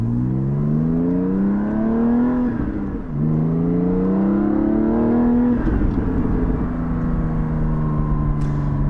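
Interior engine note of a Porsche 718 GT4 with a Soul exhaust at operating temperature, revving up through the gears with a brief dip on a shift, loud and continuous with no talking.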